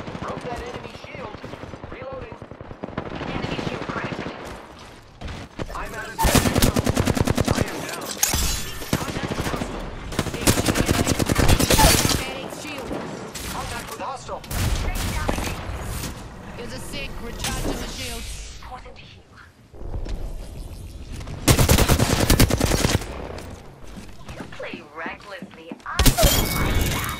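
Dense rapid gunfire and shield-cracking impacts from an Apex Legends firefight ring out in loud sustained bursts with brief lulls, near and intense throughout.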